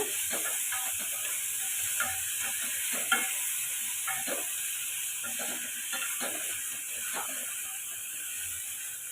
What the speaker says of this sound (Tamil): இப்போ இதை நம்ம ரெண்டு நிமிஷம் நம்ம உப்பு எல்லாம் மிக்ஸ் ஆகிற மாதிரி வதக்கி விட்டுக்கோங்க